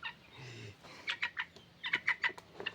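Chickens on a poultry farm give a series of short, close clucks in quick bursts over a quiet background.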